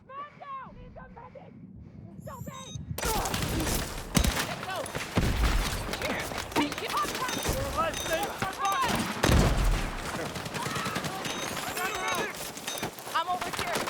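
Light machine gun fire erupts in a video game, rapid sustained bursts and overlapping shots after a quiet opening, loud and dense, while players shout over the gunfire.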